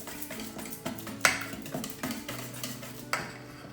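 A utensil stirs condensed milk into a flan mixture in a bowl, giving soft scraping swirls punctuated by several sharp metallic clinks against the sides, close and fairly quiet.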